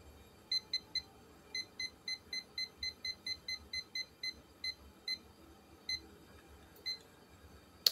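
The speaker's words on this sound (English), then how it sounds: "So I got a kitchen timer here." A wind-up kitchen timer ticks at a steady, quiet pace in a home kitchen, its repeated sharp clicks running close to the listener with no talk.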